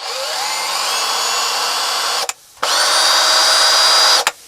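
A Litheli U20 cordless drill driver spinning at high speed, a steady high-pitched whirring motor that stops briefly, then revs up again and runs before cutting off, close and loud with no talking.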